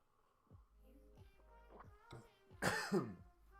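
A burst of coughing close to the mic, with a few throat-clearing sounds before it, over a low background hum.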